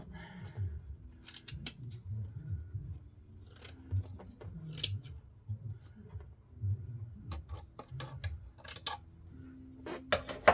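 Scissors snip through upholstery material for the seats of a 1995 Honda Acty, giving a few sharp, close cutting clicks scattered among quiet murmured speech and soft handling noise.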